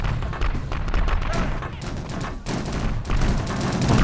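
Dense gunfire from a turret in the Payback 2 video game, rapid continuous bursts of shots with thuds and booms, loud and close throughout without a pause.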